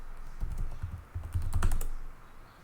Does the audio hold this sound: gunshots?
no